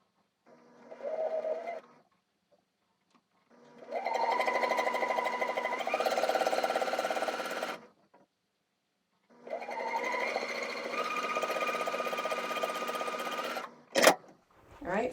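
A sewing machine stitches fabric squares for a Christmas star pillow in three bursts, a short run then two longer steady whirring runs with pauses between, close and clear, ending with a sharp click.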